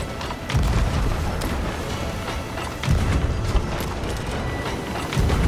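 Cannon fire strikes a galleon in Sea of Thieves as three heavy, booming impacts land about every two and a half seconds over a constant rumble of sea and ship noise.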